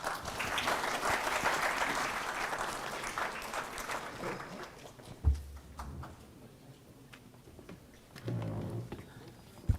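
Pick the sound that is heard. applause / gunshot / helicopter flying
applause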